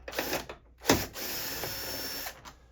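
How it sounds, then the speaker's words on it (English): Power screwdriver backing out Phillips screws from the outer window belt molding trim on a 1998–2000 Ford Ranger, in two short whirring bursts followed by a longer steady run, heard close. "Take off all the Phillips screws."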